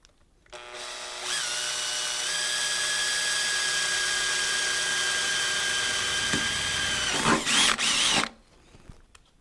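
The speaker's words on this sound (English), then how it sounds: "And then get your drill. Drill it straight down." A power drill bores a hole through the hood of a third-generation Toyota Tacoma, spinning up with a steady, loud, close whine for about seven seconds, then sputtering and stopping abruptly as the bit breaks through.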